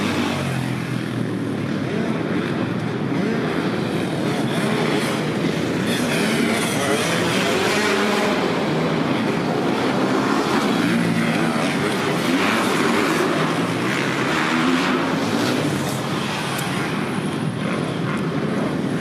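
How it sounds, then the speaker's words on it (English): Off-road motorcycles racing indoors at Orleans Arena in Las Vegas, engines held at full throttle in a dense, continuous loud roar with layered revving, echoing through the arena without a break. "He's twisting the guts out of his throttle, trying to get by them all"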